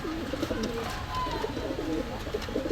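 Pakistani pigeons at a bird shop coo steadily and close by, their low throaty calls repeating in overlapping, rolling phrases over a constant background hum.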